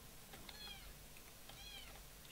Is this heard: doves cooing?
no